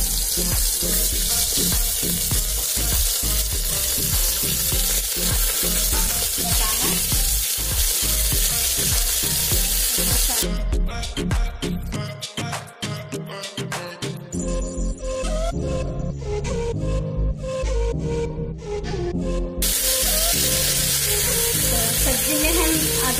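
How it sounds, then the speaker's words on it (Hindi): Cumin seeds and potatoes sizzle and crackle loudly in hot oil in a pan while pav bhaji is being made. The frying noise is continuous and close, with stirring and clattering mixed in and a brief dip in the middle. "थोड़ा सा मैं जीरा डाल रही हूँ तो जीरा को हम तड़कने देते हैं"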